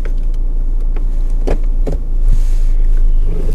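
A 2013 Mini Cooper Countryman on a test drive, with a low engine hum and cabin rumble, a few sharp clicks and thumps inside the car, then a smoother rising drone, no talking.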